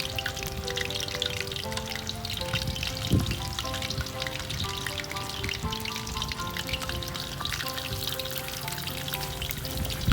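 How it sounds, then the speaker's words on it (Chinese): Mackerel deep-frying in oil for a Thai fried fish dish, a dense continuous sizzle and crackle with steady bubbling, close and loud, with light background music tones running under it and no talk. "油不用太热，我们直接放入我们的鱼去炸。"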